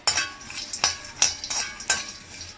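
Pistachios roasting in a pan until golden brown, heard as a close series of about six rhythmic scraping and clinking strokes from a spatula stirring the nuts against the metal.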